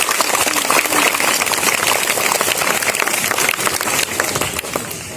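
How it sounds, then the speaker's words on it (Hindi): Loud, dense applause from a school morning assembly fills the space, a continuous wash of many hands clapping at full strength that eases slightly near the end. "जोरदार तालियां बेटा, जोरदार।"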